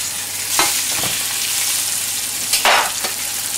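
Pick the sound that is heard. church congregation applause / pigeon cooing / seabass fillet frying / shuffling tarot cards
seabass fillet frying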